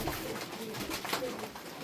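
Tumbler pigeons, including a crested bird, coo steadily and close by in a loft, a continuous low murmuring of several birds with no talk over it.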